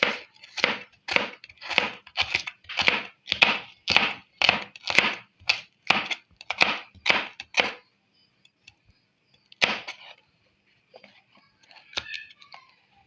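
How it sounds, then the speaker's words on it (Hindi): A knife finely chopping bell pepper on a board for an Italian salad, a steady run of about fifteen crisp, evenly spaced chops, then a pause and a few scattered cuts and handling noises. "बेल पेपर को भी इस तरीके से हम काटेंगे, बारीक काटेंगे"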